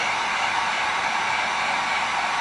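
A heat gun blows a steady, loud stream of hot air while warming EVA foam knuckle pieces, a constant close whoosh with no other sounds.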